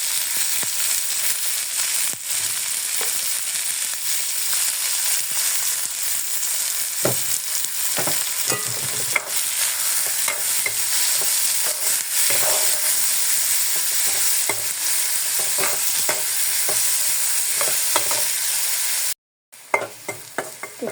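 Chopped onions with salt fry in a wok over steady loud sizzling, broken by frequent scraping stirs of a spatula, close up; the sound cuts out briefly near the end.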